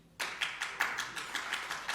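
Audience applause at a press conference, a patter of hand claps in short repeated bursts, fairly faint and slightly distant, with no speech over it.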